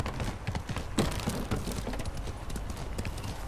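Clip-clop of horse hooves in Ghost of Tsushima as the horse hops and prances restlessly, with dense, uneven stamping steps at close range and no voices.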